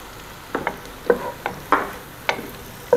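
Peppers frying in a pan for a tomato-sauce pasta, faint steady sizzle punctuated by about seven sharp clinks and scrapes of a utensil stirring at irregular intervals.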